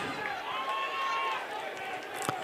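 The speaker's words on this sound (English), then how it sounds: "The crowd reacts to the big hit Warren laid on the running back Mann." Football crowd at an Averett versus Ferrum game roars steadily after a big hit, a broad sustained cheer with a whistle tone and faint voices over it.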